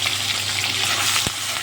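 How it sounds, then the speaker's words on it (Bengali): Shrimp fry in a pan with a dense, continuous sizzle, and a single sharp knock of a spatula against the pan comes near the end. No one speaks. "প্রথমে আমি চিংড়ি মাছটা দিয়ে দিয়েছি, চিংড়ি মাছটা ভেজে নেবো।"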